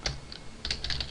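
Code is typed on a computer keyboard: a short run of crisp, close key clicks in two quick bursts separated by a brief pause, with no talking.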